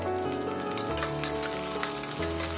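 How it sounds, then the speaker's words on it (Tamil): Cloves, cinnamon sticks and chopped green chilies crackle as they temper in hot oil for a vegetable white kurma. A steady close sizzle runs under faint clinks from a pan. "அதில் 3 கிராம்பு, 2 துண்டு பட்டை சேர்த்து தாளிச்சிக்கலாம்."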